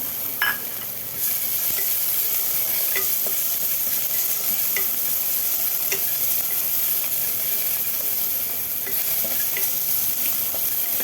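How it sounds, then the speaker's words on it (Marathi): Crushed garlic and ginger sizzle in a little spiced oil in a pan while mutton paya soup is prepared. The frying hiss is steady and close, broken by occasional light clinks of stirring. "आता ह्यामध्ये आपण क्रश केलेलं लसूण अद्रक आहे ते थोडंसं टाकूया"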